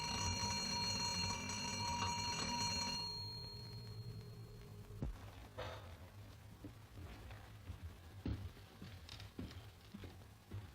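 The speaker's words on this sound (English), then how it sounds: "and the doorbell rang." A doorbell in a 1933 film rings in a sustained, loud metallic trill for about three seconds, followed by quieter footsteps and rustling.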